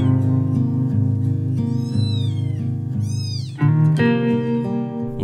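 Rescued newborn kittens meow over and over, close and loud, the thin high cries overlapping in a busy chorus with no break.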